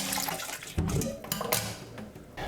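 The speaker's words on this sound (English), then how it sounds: "throw off this dirty chicken water and then pour fresh water on it" Fresh water pours over raw chicken in a bowl, giving a steady splashing rush with a few sharper sloshes and no voices.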